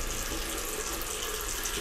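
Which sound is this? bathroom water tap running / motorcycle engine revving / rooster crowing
bathroom water tap running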